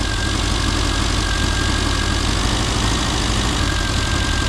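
Classic Mini Cooper RSP engine idling unevenly and hunting near stalling, a loud, continuous close-up drone with no voices over it.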